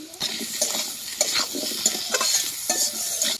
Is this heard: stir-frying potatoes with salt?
yes